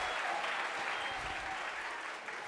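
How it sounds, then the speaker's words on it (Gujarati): A school audience at an annual function bursts into steady, dense applause to welcome guests, a sustained wash of clapping that holds at an even level for the whole stretch with no voices over it. "તો તાળીઓના ગડગડાટથી સર્વેનું એકવાર સ્વાગત કરીશું."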